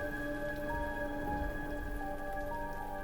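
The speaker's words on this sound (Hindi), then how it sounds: "आज तेज बारिश और बिजली दोनों ही अपना अपना कहर बरसा रहे होते हैं।" Heavy monsoon rain pours down in a dense, steady hiss that holds constant throughout, with faint sustained tones running underneath.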